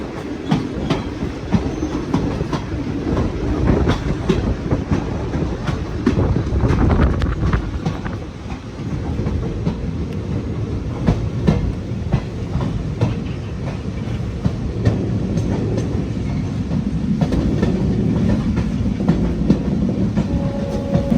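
A passenger train on the Kollam–Sengottai line between Kerala and Tamil Nadu rolls along the tracks with continuous loud rumbling and rhythmic clickety-clack, wheels occasionally squealing, no voices.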